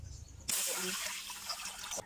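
Water running while bamboo shoots are washed for ginataang dabong, a steady broadband rush starting suddenly and continuing close by before cutting off.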